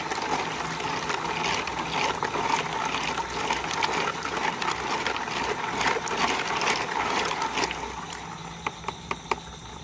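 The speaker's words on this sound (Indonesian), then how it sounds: "Oke, kita buang dulu airnya." Water is poured out after washing snails for homemade liquid organic fertilizer, a continuous splashing, gurgling flow that ends in a few light taps.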